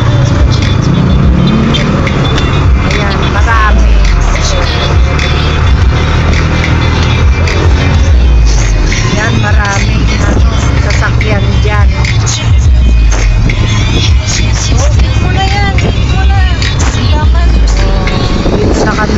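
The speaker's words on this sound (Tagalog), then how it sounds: "Sa kabila, matraffic." Heavy road traffic with many vehicles in a busy street, a loud continuous rumble of engines and passing cars with people talking over it throughout.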